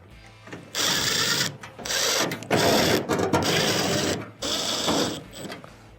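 A power driver whirs in bursts as screws go back into a clothes dryer's back panel, several loud buzzing runs separated by short pauses, close by with no talk.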